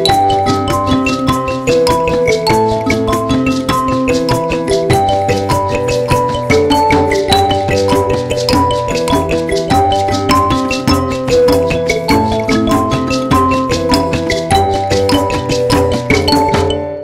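An mbira plays the kushaura part of Nhemamusasa in a steady, bright pattern of plucked metal tines, each bottom-row note struck just before a top-row note. The notes ring loud and close without pause.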